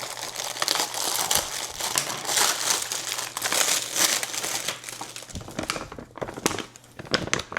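Plastic parcel packaging crinkling and crackling as it is opened, a close, irregular rustle of handled wrapping that comes in bursts.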